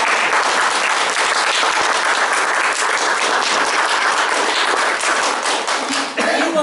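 Loud, steady applause from an audience at an art awards event, a dense wash of many hands clapping that holds evenly for several seconds.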